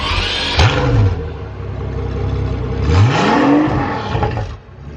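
A Pagani Huayra Roadster fitted with a one-off exhaust revs hard and close, two loud sweeping blips rising and falling in pitch over a steady rumbling idle, with no talk.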